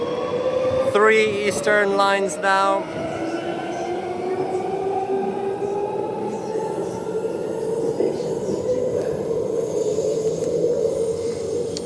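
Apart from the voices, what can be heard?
Ellenbrook Line train departing platform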